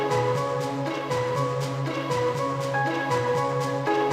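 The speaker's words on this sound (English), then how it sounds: "So this is the piano I layered with the loop" Piano notes layered over a sampled loop play a repeating pattern of soft, sustained chords with light rhythmic pulses underneath, steady and moderately quiet, with no one talking, before stopping suddenly.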